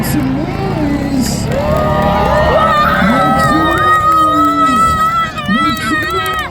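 A crowd at a monster truck show in Milton, Ontario cheers and whoops loudly, with excited shouts and voices overlapping in a busy, close hubbub.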